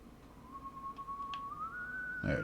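A single thin whistled note from the horror game White Day holds steady, then rises slightly, sounding faint over low background hum before a brief thump at the end.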